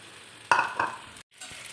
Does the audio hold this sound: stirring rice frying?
yes